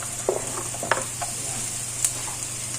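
Garlic, onion and ginger hiss steadily in hot oil, with a few soft clicks and spatters breaking through the continuous sizzle.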